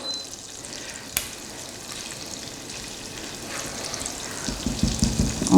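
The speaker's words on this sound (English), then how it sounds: "oil and some butter with a sprinkling of garlic. So what we're going to do is stir this around in here a little bit" Garlic frying in oil and butter in a pan, a soft continuous sizzle and crackle close by, with a sharp clink near the start and stirring noises building toward the end.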